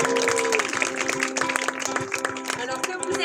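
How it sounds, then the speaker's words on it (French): A crowd claps steadily throughout at a show, applauding a singer, with sustained musical tones and some voices underneath. "On l'applaudit bien fort."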